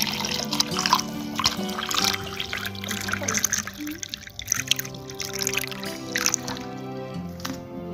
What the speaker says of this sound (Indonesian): baru kita masukkan air mineral 2 liter ya teman-teman